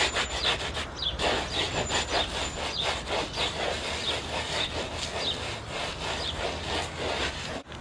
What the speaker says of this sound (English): You can almost just put it down on the ground, just rub it with your foot